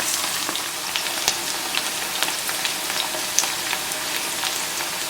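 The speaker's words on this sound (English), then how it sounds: "Maybe I'm going to fry it for 2 more minutes, or 1 more minute." Okra frying in oil in a pot for bhindi masala, a steady dense sizzle with small scattered pops, heard up close and continuous with no talk.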